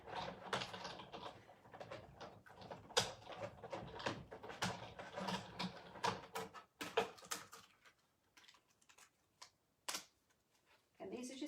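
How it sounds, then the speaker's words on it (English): A die cutting machine cutting card for a Halloween card, giving a run of irregular mechanical clicks, clacks and rolling thumps that stay close and moderate before tapering into sparse, separate knocks. "I'm just going to cut those with my die cutter"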